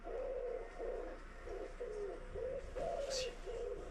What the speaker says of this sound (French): Tu entends pas le pigeon?